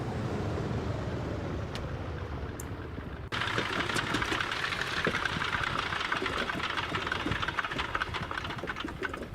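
Twin radial engines of a Douglas DC-3 in X-Plane 12 shutting down, a steady loud mechanical drone with a shift partway through as the engines wind down.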